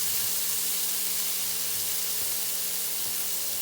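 Tomato hits a hot pan of sizzling ingredients for a beans dish, a steady broad frying hiss that stays even and close, with no talk over it.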